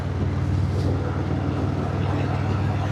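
A 2025 Harley-Davidson Fat Boy motorcycle cruising down a highway, its engine giving a steady low rumble beneath loud, constant wind rush that fills the whole stretch without a break.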